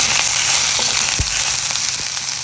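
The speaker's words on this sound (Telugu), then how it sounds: "ఈ క్యాప్సికమ్ కూడా ఫ్రై అవ్వాలి." Capsicum pieces fry in a pan for a paneer fry breakfast, a loud continuous close hiss of sizzling oil with one soft low thump partway through, no voices.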